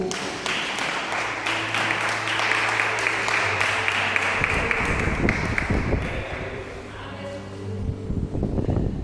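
A church congregation applauds, a broad wash of clapping close to the microphone that thins and becomes irregular midway, with low rumbling handling noise underneath.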